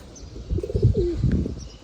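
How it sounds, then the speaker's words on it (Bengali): Pigeons kept loose coo softly and repeatedly at close range, with a few chirps and a brief flutter of wings, no one speaking. "কবুতরগুলা ছাড়া ছিল।"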